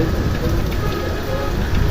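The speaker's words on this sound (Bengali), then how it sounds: "প্রচুর পরিমাণ ঢাকাতে আজকে বৃষ্টি হইতেছে।" Heavy rain pours over Dhaka, heard from a twelfth-floor vantage near Baitul Mukarram, a loud dense continuous roar of rain on surfaces with no voices.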